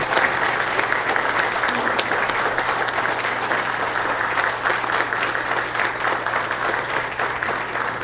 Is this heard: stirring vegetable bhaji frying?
no